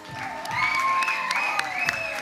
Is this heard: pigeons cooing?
no